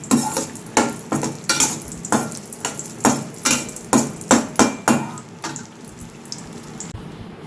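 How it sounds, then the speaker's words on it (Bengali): Bori lentil dumplings fry in hot mustard oil, a steady sizzle broken by a dozen or so sharp clattering knocks of a spatula against the pan, loud and close, with no voices. "আর এর মধ্যে আমি বড়ি কটা ভেজে নেব।"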